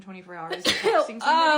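A single sharp sneeze bursts out mid-sentence from a woman telling a story, loud and close, with her chatty speech continuing right before and after it.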